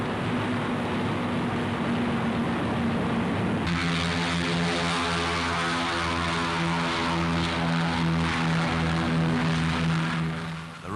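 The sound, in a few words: WWII heavy American bomber propeller aircraft flying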